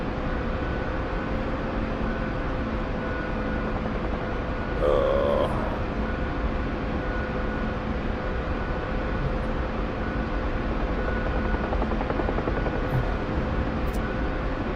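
A simulated helicopter in the combat flight game DCS flies in toward a landing zone, its rotor and engine drone steady and constant throughout, with a brief swell partway through.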